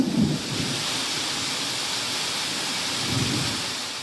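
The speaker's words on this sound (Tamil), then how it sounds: "குரு ரெட்டியூர் பகுதியில் பலமான இடி மின்னலுடன் மழை பொழிந்தது." Heavy rain pours steadily during a nighttime thunderstorm in the Ku. Rettiyur area of Tamil Nadu, a dense, constant hiss with low rumbles of thunder swelling at the start and again near the end.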